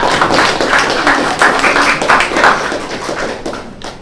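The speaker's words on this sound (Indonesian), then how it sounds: "tepuk tangan buat kelompok RA kali ini ya" Classroom applause for a student group during a university Indonesian-language course session, a dense steady patter of many hands clapping at close range for about four seconds with no talk.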